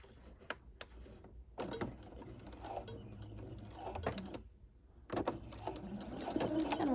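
A sewing machine runs in short stop-start bursts stitching seams across a lined tote bag with gussets, with mechanical clicks and taps between the runs, fairly quiet overall.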